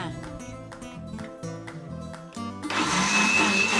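A blender whirs loudly and steadily while blending beans with coconut milk, its motor pitch rising into a harsher, higher roar partway through as the contents churn.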